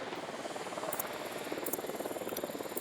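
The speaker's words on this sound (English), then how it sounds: "Deploying drone." A drone deployed in the video game Ghost Recon Wildlands, heard as a steady whirring rotor hum with a fast flutter, close and continuous, with a few faint high electronic ticks over it.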